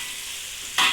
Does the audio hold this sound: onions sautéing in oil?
yes